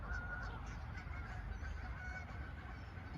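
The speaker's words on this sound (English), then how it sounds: "Here comes all the ducks or the geese or whatever" Geese honk repeatedly in a loose chorus beside a riverbank on a rainy day, the calls fairly faint and distant over a steady low rumble of background noise.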